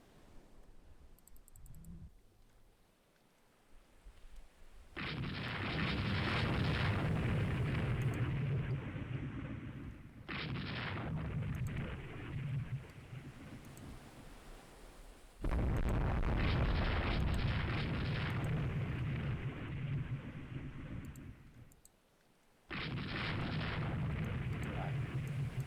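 Heavy naval guns fire in Rule the Waves 2 as long rumbling booms in several extended waves, each a dense roaring swell lasting seconds, separated by brief quieter lulls.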